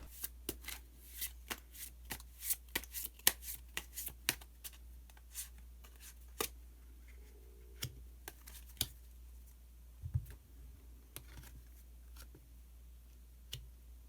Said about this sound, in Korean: 좀 더 자세한 확인을 위해서 히든 카드 한 장 더 뽑아보도록 하겠습니다